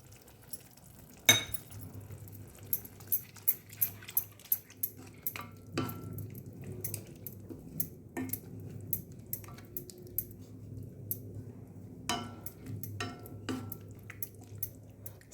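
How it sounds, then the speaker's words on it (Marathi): A spoon stirs carrot halwa in a pan after milk with cream and saffron goes in, making a run of quick metallic clinks and scrapes, some sharp and close, over a quiet low bubbling background. "आणि हे जे मी दूध घेतलं आहे साई सकट आणि केसर ते घालूया"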